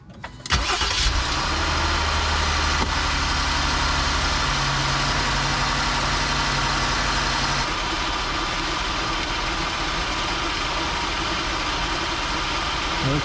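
Jeep Grand Cherokee with a ZF 8-speed transmission starting and settling into a steady idle, its engine close and continuous throughout with broadband hum and no talk.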